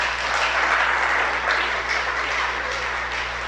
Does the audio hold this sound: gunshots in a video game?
no